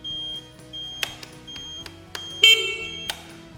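Sharp electronic beeps from a 2021 Lambretta V-Special 125cc scooter sound several times over a low droning hum, each a short high-pitched tone, fairly close and clear.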